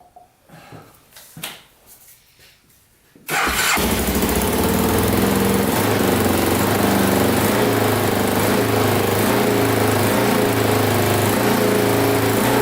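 A Can-Am DS 650 quad engine cranks with a few faint clicks and rattles, then catches and runs loudly and steadily at close range with no one talking.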